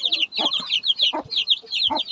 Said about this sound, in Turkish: civciv bakım ile ilgili